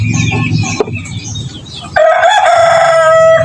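A rooster crows loudly and close among backyard poultry, with clucking and other fowl sounds before it.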